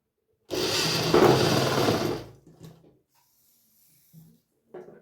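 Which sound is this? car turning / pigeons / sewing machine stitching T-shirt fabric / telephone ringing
sewing machine stitching T-shirt fabric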